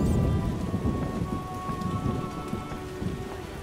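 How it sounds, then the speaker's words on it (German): Steady heavy rain patters on surfaces while deep thunder rumbles underneath, with a faint constant tone in the background, in the video game The Witcher. "Es ist nicht gut, es regnet."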